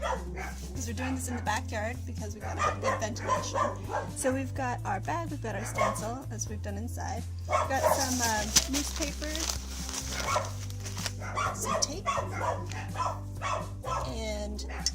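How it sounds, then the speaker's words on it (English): Neighbourhood dogs bark repeatedly in a backyard, with yips and whimpers at moderate distance, while a person talks continuously over them and music plays underneath. "I'm just going to have to apologize for the neighbor dogs."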